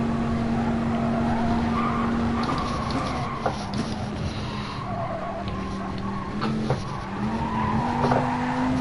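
A race car in GT Sport skids sideways at Le Mans, its steady engine drone joined by wavering tire squeals that rise and fall over several seconds, loud and close throughout.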